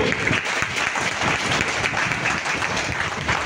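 Applause from a seated training audience at a DXN health care session, a steady, fairly thin wash of clapping hands lasting throughout, moderately loud with no voices over it.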